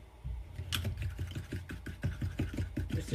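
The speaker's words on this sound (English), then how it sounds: "So just give them a quick whisk" Eggs mixed with miso are whisked briskly in a bowl, a quiet, steady run of quick ticking strokes in even rhythm, heard close up with no talking.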